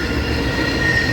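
A CSX freight train passes in Folkston, a steady close rumble of rolling cars with a sustained high wheel squeal running through it, loud and continuous.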